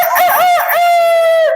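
A loud, drawn-out rooster-style crow, its pitch rising and wavering before holding a long sustained note, heard alone at close range.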